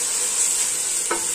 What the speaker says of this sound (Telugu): కొంచెం పుదీనా, కొత్తిమీర వేసుకొని ఇది కూడా మనం బాగా ఫ్రై చేసేసుకుందాం